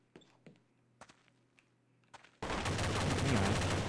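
Gunfire from the Counter-Strike: Condition Zero video game: several scattered, distant single shots, then a loud, sustained burst of rapid automatic fire up close.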